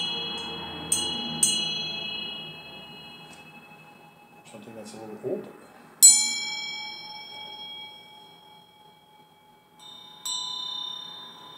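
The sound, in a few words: bell ringing for sound healing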